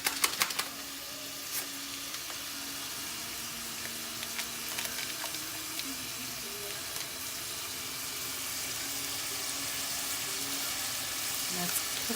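Aromatics frying in a pan with sesame seasoning, a dense, steady close sizzle with scattered crackles and pops throughout, a faint low hum beneath and no speech.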